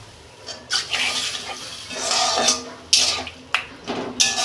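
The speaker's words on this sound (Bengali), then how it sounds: "এই যে আলু কষানো হয়ে গেছে আমি জল দিচ্ছি।" Water poured into a pan of sautéed potatoes for a Bengali fish curry with potato and eggplant, splashing and sizzling loudly in several bursts, close up.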